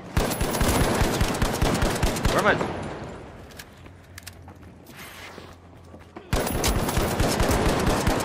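Hip-fire bursts of automatic gunfire in the shooter game The Finals, loud rapid shots that stop for a few seconds and then resume, with a person talking over them.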